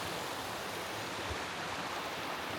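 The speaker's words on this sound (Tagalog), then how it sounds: "Lakas ng ilog." A strong stream rushes steadily in a broad, even hiss of flowing water, constant and fairly faint, with no voices over it.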